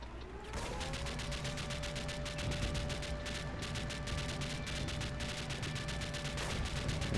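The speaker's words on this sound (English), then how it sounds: "That's not a AA gun, that's a machine gun." Rapid machine gun fire in the toy-army strategy game Toy Soldiers, a dense continuous burst of shots with a steady tone running under it, loud and close with no talk.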